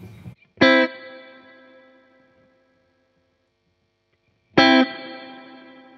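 Two bright guitar chords ring out through an affordable reverb pedal, each struck sharply and left to bloom into a long, spacey, wet wash that slowly fades before the next strum arrives.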